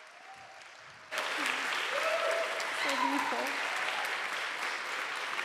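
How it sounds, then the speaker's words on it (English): Church audience applauding a musician at a Presbyterian Sunday worship service, clapping bursts in loud and stays steady for several seconds while a voice speaks briefly over it. "another round of applause"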